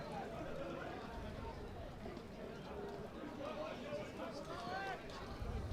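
Crowd noise at a country football match between Red Hill and Dromana, a steady distant murmur of spectators with occasional shouts under continuous commentary.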